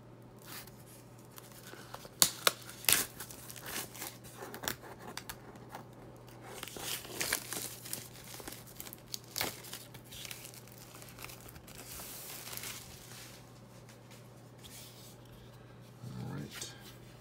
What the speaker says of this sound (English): Let's go ahead and unwrap the board.